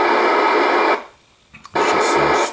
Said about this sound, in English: There's some amateur radio repeater somewhere on 29650